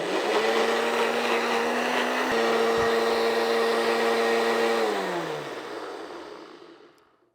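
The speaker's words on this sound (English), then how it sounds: "So I'm gonna blend this until smooth." A blender runs steadily on pumpkin spice cottage cheese cookie dough, a loud constant whir with a sustained motor tone that holds, then drops in pitch and winds down as the blender switches off near the end.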